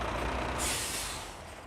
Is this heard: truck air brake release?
yes